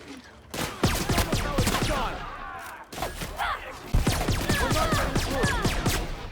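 Rapid bursts of gunfire in The Outer Worlds video game during a fight with cannibals, sharp repeated shots in quick volleys, a brief pause, then another loud flurry of shots.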